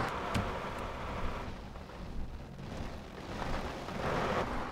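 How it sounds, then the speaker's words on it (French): Heavy rain in a thunderstorm, a steady hissing wash with a low rumbling undertone that swells gently toward the end, fairly soft and continuous with no talk. "On m'annonce un orage."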